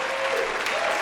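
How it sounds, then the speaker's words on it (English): A brief, steady burst of audience clapping during a live play-through of the House of Danger game, with many hands heard at once and no talk. "whichever one sounds better to you, clap louder"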